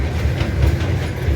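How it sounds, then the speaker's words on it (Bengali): The Darjeeling toy train runs downhill around the mountain with a steady low rumble and faint rhythmic rattling of the carriages, heard from on board. "এইভাবে পুরো পাহাড় ঘুরে ঘুরে ঘুরে ঘুরে ট্রেনটা নামছে।"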